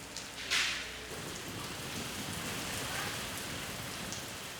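Steady rain shower pattering on surfaces at the Jeodong port fish market on Ulleungdo, Korea, a dense even hiss of drops with one brief louder splash near the start.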